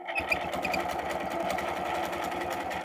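A sewing machine stitches an arc in one steady run, its rapid needle strokes forming an even mechanical chatter, close and continuous with no talk.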